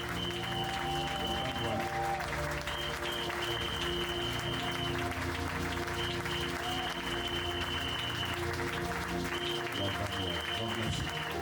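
A church congregation applauds its pastor and leadership at the third day of a conference, sustained clapping running steadily throughout at even loudness, with music and voices underneath.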